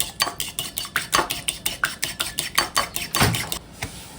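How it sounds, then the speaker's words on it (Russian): Rapid, regular whisk strokes clatter against a bowl while a garlic-and-honey mixture is beaten thoroughly, a steady close rhythm of about four strikes per second with no talk. "Тщательно все взбиваем."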